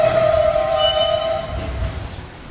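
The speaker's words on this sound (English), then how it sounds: "This is a Queens-bound E train." A Queens-bound E subway train in a station, with a loud steady tonal whine and rumble of the train that fades and quiets over about two and a half seconds as it moves off.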